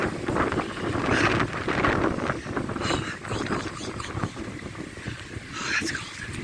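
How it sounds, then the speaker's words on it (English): Cold morning wind gusting around a house in Florida just after Hurricane Ian, buffeting the microphone in loud, uneven rushes, with a person's voice murmuring and exclaiming over it. "it's cold, cold, cold wind"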